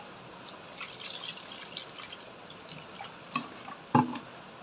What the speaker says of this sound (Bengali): ফেটানো হয়ে গেছে, এবার আমি জল দিয়ে দেবো